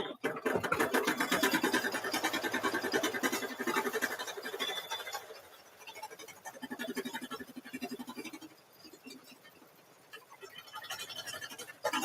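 An embroidery machine stitches the final run on a double zipper bag in the hoop, a steady fast needle chatter that is loud at first and then softer and intermittent, with someone talking over it.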